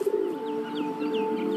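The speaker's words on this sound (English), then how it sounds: "Why is Hovie chilling with those pigeons on a power line?" Pigeons perched on an outdoor power line give a soft, steady, low cooing, with faint higher chirps from other birds scattered over it.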